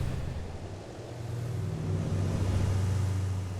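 Steady engine drone from moving cubes in a UE5 MetaSound Doppler simulation, a low continuous hum that swells gently in loudness toward the middle and eases off at the end.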